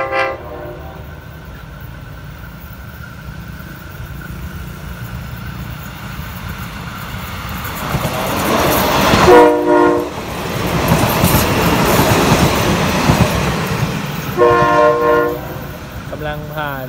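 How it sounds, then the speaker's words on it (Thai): Ordinary train 262 running from Hua Hin to Bangkok rumbles along the track with a steady roar, sounding two blasts of its horn-like whistle, one short and one longer near the end, while a voice speaks faintly. "นี่นะครับเสียงวีดนี้เป็นเอกลักษณ"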